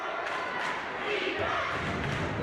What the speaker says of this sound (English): Crowd shouts chants defense now.